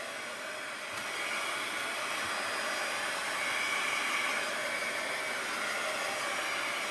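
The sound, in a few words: hair dryer drying paint on an art journal page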